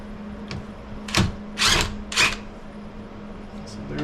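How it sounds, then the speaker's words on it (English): A power driver backs the side screws out of the front casing of a dirt-clogged air conditioning unit, giving three short whirring bursts over a low steady hum. "now we're going to back out the screws that are on the sides"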